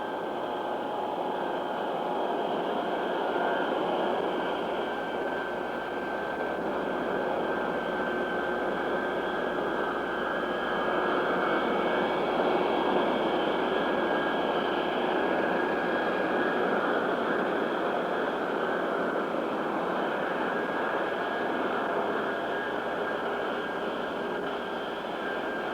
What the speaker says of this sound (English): closed the cockpit window, and prepared to taxi out.